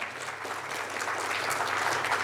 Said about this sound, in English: So a big round of applause for Chitale sir,